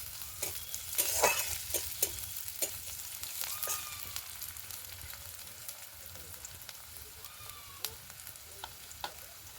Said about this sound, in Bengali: দেব অল্প গাজর কুচানো, গাজরগুলো একটু ভেজে নেবে হালকা